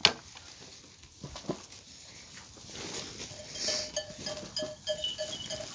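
Goats bleat a few times at moderate distance amid rustling and shuffling, with a short sharp knock at the start.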